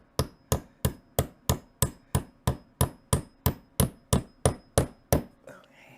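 A small hammer taps small nails in a steady series of about fifteen sharp, ringing strikes, close by and evenly spaced, before stopping.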